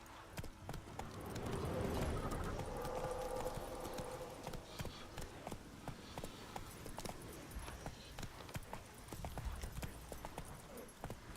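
Horse hooves clip-clopping at a gallop in the video game The Witcher 3, a steady rapid rhythm of hoofbeats running throughout, fairly close and moderately loud with game ambience behind.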